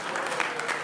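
A brief burst of audience applause at a stand-up comedy show in Macedonia: dense, steady clapping from a small crowd, fairly close, with no voices over it.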